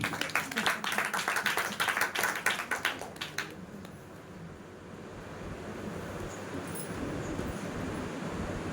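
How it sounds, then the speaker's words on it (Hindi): A church congregation claps in a loud burst of rhythmic applause for the first few seconds, then it fades into a diffuse crowd murmur and background noise. "जोरदार ताली बजाइए एक दूसरे की।"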